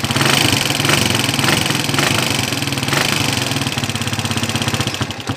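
The noisy, rattling engine of a TMX 155 motorcycle idles, worn and in need of timing gear, cam follower and push rod work. It runs steadily and loud with a continuous mechanical clatter throughout, with no talk.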